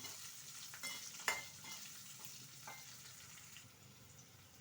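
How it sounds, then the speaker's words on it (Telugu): Onions frying in a pan during a beans fry: a steady, faint sizzle with a few sharp scrapes and taps of stirring, no voices. "ఆనియన్స్ వేసుకొని బాగా ఫ్రై చేయాలి."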